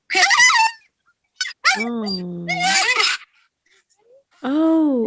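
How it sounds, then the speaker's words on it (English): An excited husky gives high, wavering screams and yelps inside a car, loud and close, in several bursts separated by short silences. "I'm like, oh, that's a husky scream"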